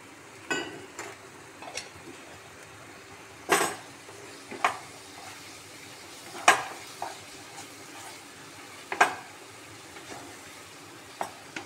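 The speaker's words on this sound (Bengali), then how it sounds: "মশলাগুলো কষানোর জন্য একটু জল দিয়ে কষাবো।" Spices are stir-fried with a splash of water in a pan, a low steady sizzle broken by occasional sharp scrapes and clinks of a spatula against the metal, spaced several seconds apart, with no voices.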